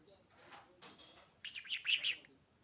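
Soft rustling chatter gives way to a burst of rapid, bright chirps from a budgerigar, close and fairly quiet.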